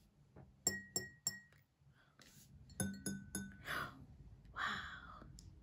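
Water glass set up as a musical glass, struck by fingertip taps that ring out as clear bell-like pings, first a quick run of several taps then a pause and more taps, with soft breathy sounds between.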